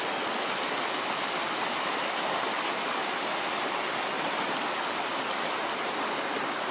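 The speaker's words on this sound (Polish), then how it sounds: "strumyczek." A small mountain stream near Galtür and Ischgl in the Alps rushes steadily and close by, a dense, unbroken wash of flowing water with no voices over it.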